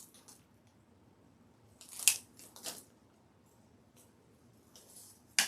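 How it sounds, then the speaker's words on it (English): Scissors snip pieces off Christmas wreath material for a Santa front door wreath. A few sharp, close cuts stand out against near silence, two in quick succession and one more at the end. "So I'm just going to cut some of these off."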